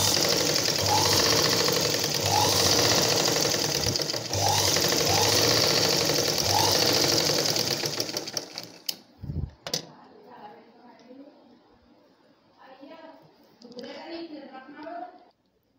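A sewing machine runs steadily while stitching a blouse, a close, continuous mechanical whir with a faint repeating pulse for about eight seconds. It then stops, leaving quieter handling noises and soft rustling.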